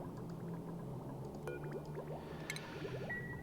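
Salt water draining through pipes in the video game Oxygen Not Included, a steady layered gurgling and squishing of liquid with scattered drips and small bubbling bursts, quiet and continuous throughout.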